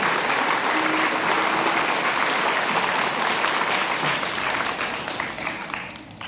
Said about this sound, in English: So another nice round of applause for the Crisp family